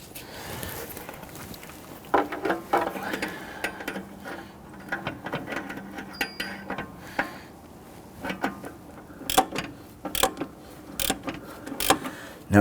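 Ratchet socket clicking in short irregular bursts while tightening a downstream O2 sensor on a 2011-2015 Kia Sorento 2.4L, close and moderately loud with mechanical clatter between.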